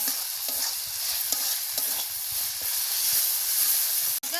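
Cumin and coriander powder frying in a spice mix for tarka, a steady hissing sizzle with soft repeated scraping of a spoon through the masala.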